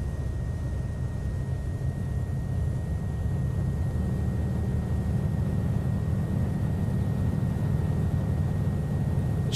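A Cessna T206H Stationair piston engine runs up to 1800 RPM in a flight simulator, a steady droning propeller hum with low rumble, continuous and moderately loud with no talk.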